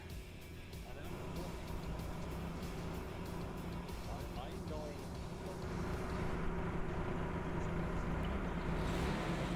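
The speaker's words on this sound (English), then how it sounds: "They left 6 an engine on." A vehicle engine left running in a video game, a steady low drone that holds constant and grows slightly louder toward the end, heard under continuous talking voices.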